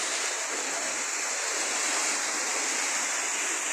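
Heavy overnight rain pouring onto a house, a dense, steady hiss that fills the whole stretch without a break and no voices.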